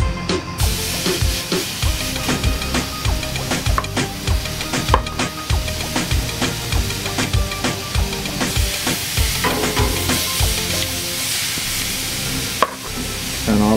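Pork frying in oil over moderate heat, a loud close sizzle with steady rhythmic scraping and knocking of a utensil in the pan throughout, no talk.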